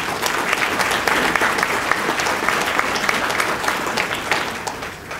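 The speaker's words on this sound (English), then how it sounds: "let's give them all a round of applause" Guests at a community heroes dinner clap in a brisk, full round of applause for event sponsors, steady and close throughout before tapering slightly at the end.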